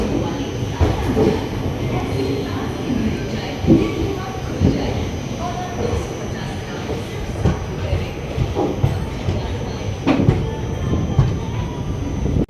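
The 14118 Kalindi Express pulls out of Prayagraj Junction from platform 6 on a winter night, a loud continuous rumble of wheels and carriages with rattling, faint squeals and a steady high whine, and voices murmuring nearby.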